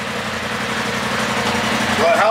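A Polaris RZR Turbo S side-by-side engine rumbles steadily at close range, its low idle-like drone holding throughout and swelling slightly near the end as the vehicle is driven out.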